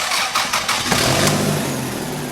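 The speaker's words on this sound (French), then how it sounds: "Ici, c'est pour le moteur essence." A petrol engine runs on an automotive electronics training bench, loud and close, with a rough steady roar and a brief rise partway through as it revs, and no voices.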